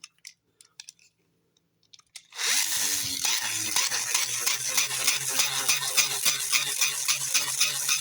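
Beyblade spinning tops launched into a stadium and battling: after a few soft clicks, a sudden loud whirring rattle of the Cracking Panzer top grinding and colliding continues steadily and close.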